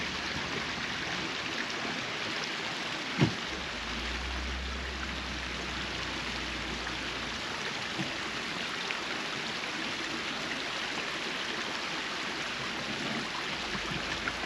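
A private river stream flows steadily below a Yosemite campsite, its broadband rushing water constant and fairly close throughout, with a brief low thump partway through.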